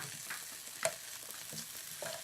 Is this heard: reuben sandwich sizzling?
yes